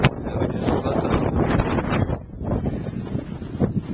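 Wind during a blizzard in New Jersey buffets the microphone in loud, uneven gusts that rise and fall for the whole span, with a brief lull in the middle and no talking.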